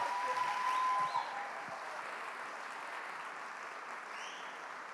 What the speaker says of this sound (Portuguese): Vai aplaudindo!